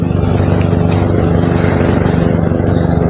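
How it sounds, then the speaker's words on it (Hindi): A helicopter from Baltal on the Amarnath Yatra Pahalgam route in the mountains, its rotors thudding in a fast, steady beat with a loud engine roar, close and constant throughout. "और ये जो हेलीकॉप्टर आ रहा है"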